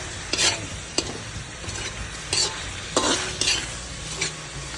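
A utensil stirring squid adobo with chili in a pan, a series of scraping strokes against the cookware over a soft background sizzle, close and moderately loud.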